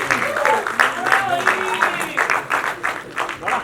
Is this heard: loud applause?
yes